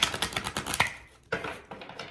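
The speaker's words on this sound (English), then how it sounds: "These cards are big. They're tough to shuffle." Large oversized cards are shuffled by hand, a quick series of crisp riffling slaps and flicks, close and fairly loud, with a short pause before a final few snaps.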